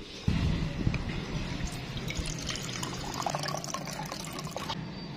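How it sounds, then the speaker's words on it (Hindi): Water pours into a vessel for drinking in a hot village home, a steady trickling fill that runs for several seconds and then stops, with no talking. "और पानी पी लेते हैं, प्यास भी लगी है।"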